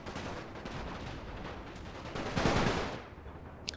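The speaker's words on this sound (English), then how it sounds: "the mortars are actually targeting us here" Mortar fire in the video game The Great War, on a Serbian battlefield: faint, hissing battlefield noise builds into a muffled blast near the end, followed by a small sharp crack.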